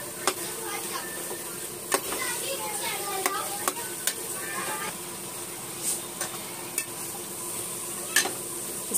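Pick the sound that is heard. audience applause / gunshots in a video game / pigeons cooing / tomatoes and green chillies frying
tomatoes and green chillies frying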